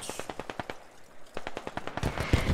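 An RPK machine gun on a bipod fires in quick sharp bursts during an assault on an insurgent stronghold, each burst a rapid rattle of distinct shots, moderately distant, with short pauses between volleys.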